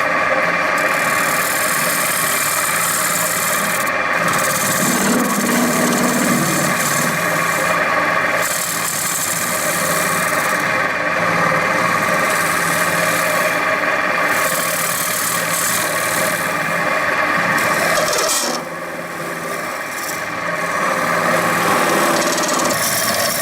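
A wood lathe turns an inlay bowl worked with a carbide tool, producing a loud, steady mechanical whine and hum that continues throughout, with only a brief dip near the end and no talking.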